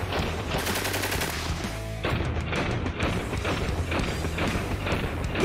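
Water-cooled machine gun dating from 1880 firing in long, dense bursts, with rapid overlapping reports and a loud, crowded crackle throughout, outdoors and close to the listener.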